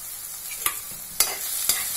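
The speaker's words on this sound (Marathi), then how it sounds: "आता त्याच्यावरती पातीच्या कांद्याचा पुढचा पांढरा कांदा असतो तो घालती आहे." Chopped spring onion whites stir-frying in a hot pan for veg Manchurian, a steady close sizzle broken by three sharp scrapes of a spatula stirring the pieces.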